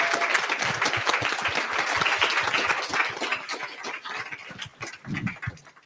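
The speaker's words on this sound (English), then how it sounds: "let's give them a round of applause" A round of applause from an audience at a business talk on intellectual property, steady clapping with distinct individual claps audible, gradually thinning out toward the end.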